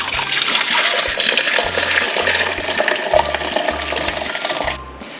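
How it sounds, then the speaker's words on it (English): Plum juice pours steadily from a pot into a bowl, a continuous splashing liquid rush that runs for several seconds and then cuts off near the end. "We're gonna pour off the rest of this into this bowl just to cool."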